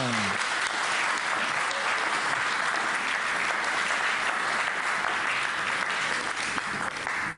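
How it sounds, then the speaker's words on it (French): A TV studio audience at a religious debate broadcast claps in a loud, dense, continuous burst that holds steady for several seconds and then cuts off abruptly. "Merci, on peut applaudir quand même."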